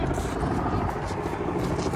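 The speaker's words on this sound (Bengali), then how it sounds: "ওখানে একটা হেলিকপ্টার আর একটা প্লেন পরপর আসতেছে।" A helicopter passing overhead near the CN Tower in Toronto, a steady low rotor drone with a faint pulsing beat holding at moderate level, heard from the ground under light background murmur.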